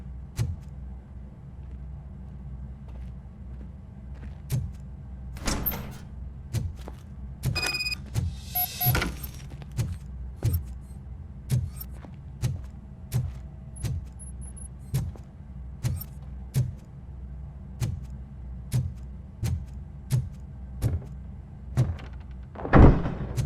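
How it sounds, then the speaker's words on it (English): A door is worked open in the video game Robocop: Rogue City, with repeated mechanical clunks and thuds in an even rhythm over a steady low hum, plus a few sharp metallic clanks partway through, and no talking. "Now let me get that door open for you."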